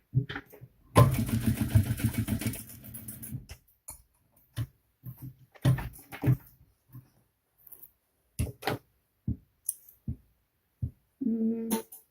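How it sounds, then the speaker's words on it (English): Sewing machine stitching a seam on a crossbody bag: one sustained burst of rapid stitching, then short stop-start runs and scattered clicks of the mechanism, close and fairly quiet. "I'm going to go back and put another stitch through that."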